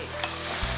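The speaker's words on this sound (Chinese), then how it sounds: "再把准备好的葱姜蒜下锅" Scallion, ginger and garlic hit hot oil and chilli bean paste in a wok, giving a short, steady sizzle with a faint scrape of stirring and no voices.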